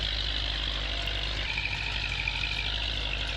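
A tractor engine in the video game Farming Simulator 19 runs at a steady, deep drone, continuous and even throughout with no voices.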